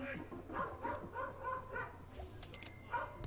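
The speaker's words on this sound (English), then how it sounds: "As the dog barks outside." A dog barks outdoors in The Sims 4, several short yips and barks at a steady pace, moderately distant and mixed with game sounds.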